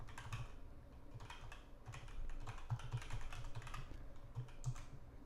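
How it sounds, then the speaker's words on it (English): Fingers typing on a computer keyboard, a close, soft stream of irregular clicking keystrokes with scattered heavier taps, continuing for several seconds without any talking. "I'm just going to type this out here"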